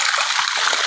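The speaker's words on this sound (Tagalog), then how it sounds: "Kanawa gud o kusog kayo yang agas." Strong water rushes and gushes without pause at a spring hill resort, a loud, close, steady torrent with spattering splashes and no voices.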